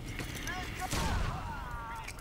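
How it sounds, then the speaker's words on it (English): Grenade blasts in the shooter game Crysis 2, a sustained burst of booming explosions peaking around the middle, with game voices and chatter running underneath. "Grenades everywhere!"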